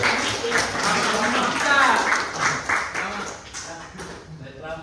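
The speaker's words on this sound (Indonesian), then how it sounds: "tepuk tangan dulu untuk siapa itu" Schoolchildren clapping hands in a classroom, a brisk irregular patter of claps that swells and then tapers off, with a teacher's voice faintly mixed in.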